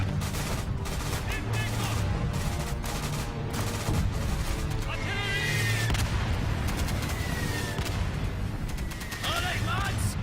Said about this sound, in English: Request immediate barrage on objective Able.